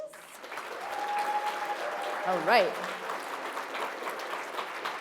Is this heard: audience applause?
yes